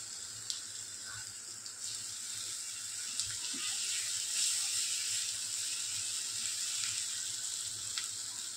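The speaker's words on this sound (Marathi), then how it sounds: "बोंबील आणि बटाटा घालते आता मी." Bombil fish and potato pieces go into a hot pan and settle into a soft, steady sizzle with a few light clatters, heard close and fairly quiet with no talk.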